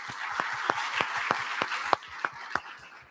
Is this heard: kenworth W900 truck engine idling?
no